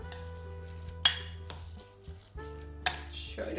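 A spoon stirs a walnut tarator mixture in a bowl, close up, with two sharp clinks against the bowl and quieter scraping in between. No one speaks.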